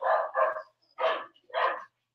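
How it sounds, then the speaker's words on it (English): A dog barks four times close by, two quick barks, then a pause, then two more spaced apart, loud and clear against silence. "my dog is just going nuts for some reason."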